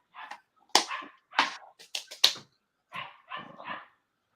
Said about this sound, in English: the slight dog barking in the background is better